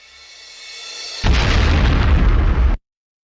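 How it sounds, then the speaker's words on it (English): A rising whoosh swells for about a second, then a loud, full-bodied explosion roars and rumbles steadily before cutting off abruptly into silence. "And that goes into an explosion there."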